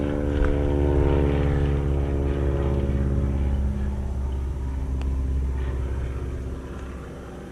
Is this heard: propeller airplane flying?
yes